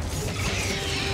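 A weapon reload in Helldivers 2 gives a brief, loud mechanical clack and ratcheting creak, close and alone.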